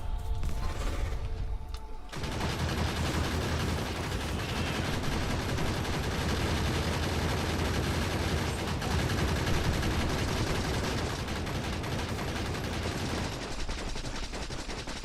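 Gun turrets firing in Factorio Space Age, a dense, continuous rattle of rapid automatic gunfire that starts abruptly and stays loud and steady throughout.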